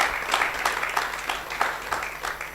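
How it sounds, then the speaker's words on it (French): An audience at an AI conference session claps for itself, a steady wash of close, moderately loud applause with rhythmic pulses running through the whole stretch. "applaudissez pour vous-même"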